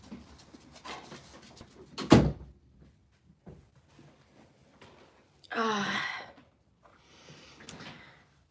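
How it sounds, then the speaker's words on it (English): A door being opened, heard as a sharp thunk with a brief rattle, followed a few seconds later by a louder bursts of creaking or scraping movement; indoors, no talk. "let me open the door"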